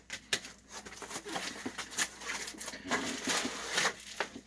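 Plastic shrink wrap is peeled and torn off a Godzilla VHS clamshell case, giving close, crinkly rustling with a few sharp crackles and snaps throughout.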